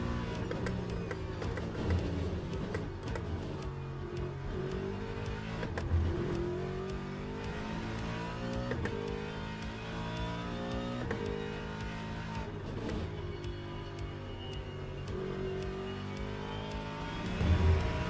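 Ford Mustang race car engine in the racing sim Le Mans Ultimate, a sustained, loud engine note that climbs and falls repeatedly through gear changes across the lap, with no voices.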